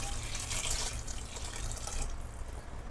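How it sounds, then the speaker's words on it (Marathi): Freshly boiled hot water is poured into a pot of masale bhat, a spiced rice dish, making a soft, steady splashing stream that is fairly quiet and heard alone for about three seconds. "गरम पाणी आहे उकळलेलं तर मी आता हे ह्याच्यामध्ये टाकून घेणार आहे"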